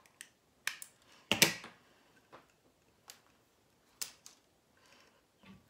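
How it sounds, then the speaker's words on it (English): Sharp, dry snips from scissors or clippers trimming the tag ends off a fishing-line clinch knot, a handful of close, quiet clicks spaced irregularly with near silence between them. "we're gonna snip the tag ends off"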